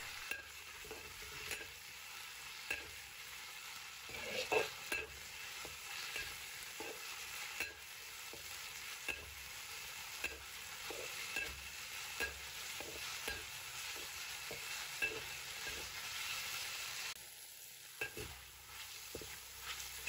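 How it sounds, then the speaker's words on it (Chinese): Meat strips stir-fried in a wok over medium-high heat, a faint continuous sizzle punctuated by regular scraping and tapping strokes of the spatula, near and without speech. "把肉炒至变色"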